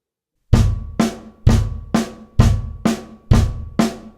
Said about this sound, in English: Okay, eighth notes before was this.